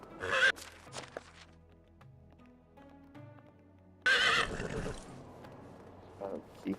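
A horse in the medieval life-sim game Medieval Dynasty gives two short, breathy neighs and snorts, with soft game music and hoof sounds in between.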